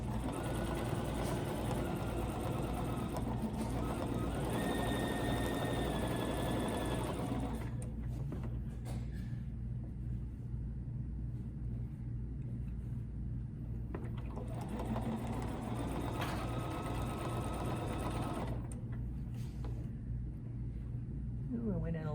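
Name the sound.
sewing machine stitching a quilt line with a ruler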